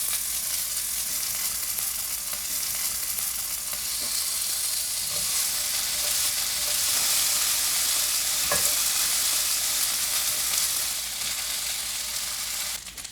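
Frozen gyoza laid into a hot oiled pan, producing a loud, continuous broadband sizzle that holds steady throughout, with a few faint clicks of dumplings being placed and no talking.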